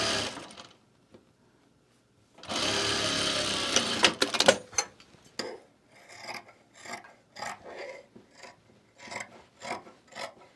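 A sewing machine stitches a French seam along a garment's side seam in one steady burst after a pause, followed by a string of short stop-start runs and fabric handling.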